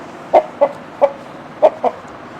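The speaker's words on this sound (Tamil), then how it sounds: "இது 2 சேவல். 2மே சேவல் தான்." Two roosters cluck in short, sharp bursts, five distinct calls spaced irregularly, close and fairly loud over a quiet background.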